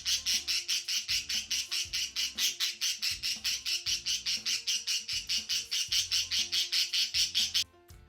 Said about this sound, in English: I'll put in a video of Louie screaming right now.